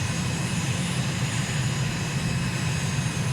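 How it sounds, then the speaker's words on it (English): Steady roar of an aircraft engine and airflow as the plane flares and touches down in Microsoft Flight Simulator at N'Djamena, Chad, a continuous loud drone with no distinct impact. "Flaring and touchdown at 101, which is quite okay."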